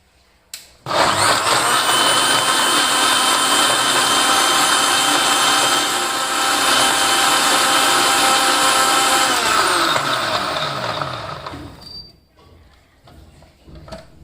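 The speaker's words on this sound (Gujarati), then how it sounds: "હવે આ બધી સામગ્રીને મિક્સરમાં શેક બનાવી લઈશું" An electric mixer grinder blends a protein shake made with milk, a loud steady whirring motor running for about nine seconds before slowing and winding down to quiet.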